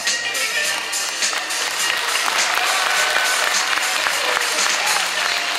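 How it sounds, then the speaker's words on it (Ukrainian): A concert audience applauds, a dense, sustained wash of many hands clapping in a hall, loud and continuous with a faint murmur of voices mixed in. "Ваші оплески"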